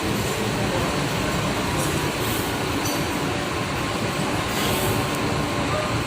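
Rosalia Indah intercity bus, route MHD 164 to Bogor, pulling out of a parking lot in Palembang: a steady, loud engine rumble with broad road noise that holds constant throughout, with no voices.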